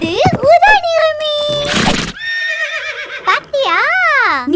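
A cartoon horse whinnies repeatedly in a bright, high-pitched, wavering voice, with a breathy noise burst in the middle, from a Tamil children's animated song about a magic horse.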